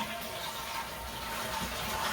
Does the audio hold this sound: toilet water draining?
yes